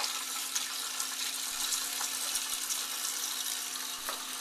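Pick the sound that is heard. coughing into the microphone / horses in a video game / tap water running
tap water running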